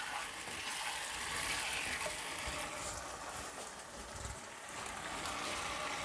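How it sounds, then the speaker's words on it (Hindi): Fried mixed vegetables being stirred in a pan for a restaurant-style mixed vegetable dish, a steady soft sizzle with scraping stir noises running throughout, no voices. "फ्राई की हुई सब्जियां डाल देंगे। अच्छी तरह मिक्स करेंगे।"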